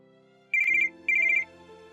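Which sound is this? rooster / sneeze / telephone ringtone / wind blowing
telephone ringtone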